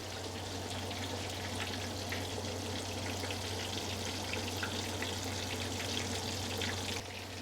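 Pork schnitzel fries in hot oil, giving a steady, close crackling sizzle that runs unbroken for several seconds over a low hum.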